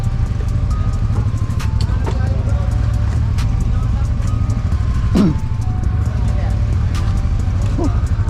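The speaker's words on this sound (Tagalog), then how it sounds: "Smooth mag-downshift ng Winner X" Honda Winner X motorcycle engine on the Carmona Racing Circuit track, a loud, close, steady drone with a few brief rev shifts during downshifting, and voices faintly mixed in.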